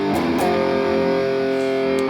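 Six-note chord strummed on electric guitar through a high-gain distorted amp, a thick saturated blast that rings and sustains for about two seconds, alone with no talking.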